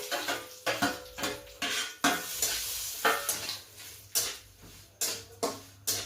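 Roasted semolina for sheera being stirred in a pan, a spoon knocking and scraping against the metal in a regular series of sharp strokes over a faint sizzle.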